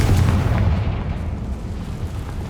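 A Confringo blasting spell in Hogwarts Legacy erupts in a loud, deep explosion that rumbles and decays steadily over a couple of seconds, alone without speech.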